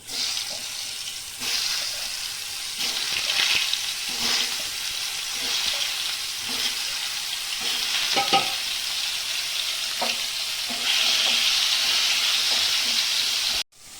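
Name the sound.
pointed gourd frying in hot oil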